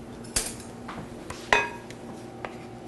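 A fork stirs batter in a bowl, giving a few sharp clinks against the side spaced about a second apart, with softer scraping between them in a quiet kitchen.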